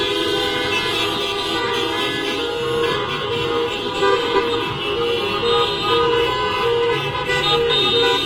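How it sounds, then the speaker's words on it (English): Car horns honk continuously from vehicles circling a Minneapolis block in a rent and mortgage freeze protest, overlapping loud toots and sustained blasts layered over engine and traffic noise. "It's just people continually going around this block,"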